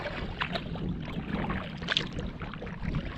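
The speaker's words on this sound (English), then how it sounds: "A good 5-kilometer long paddle down the lake right now." Canoe paddling along Mink Lake in Algonquin, with steady water swishes and soft splashes of paddle strokes, close up under a constant wash of wind noise.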